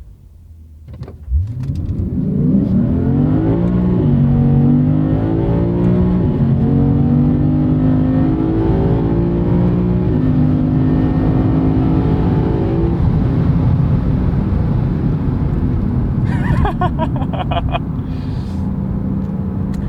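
A 2023 Lexus IS500 accelerates hard from first gear on a canyon road, its engine note climbing loudly through the revs over many seconds, then easing off near the end.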